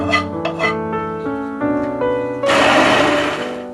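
A grinder whirs in short stuttering bursts with a buzzing pitch, then runs continuously and louder as cooled cashew mixture is blended into a fine paste.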